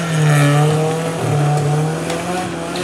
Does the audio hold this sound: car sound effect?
yes